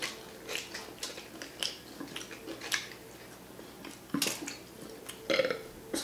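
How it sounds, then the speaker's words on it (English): Someone burps repeatedly while eating a Burger King cheesy bacon crispy chicken sandwich and chicken tenders, several short close burps scattered among soft chewing and mouth noises. "I don't know what type of burping you want to get."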